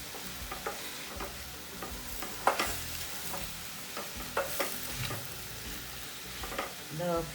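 Vegetables for hakka noodles are stir-fried over a high flame in a kadai, a steady sizzle broken by repeated scraping and clattering strokes of a spatula against the pan, close and fairly loud.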